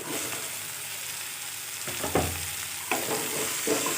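Beans sautéing with onion and tomato in a hot pan, a steady close sizzle and crackle broken by a few louder stirring scrapes, with no voices.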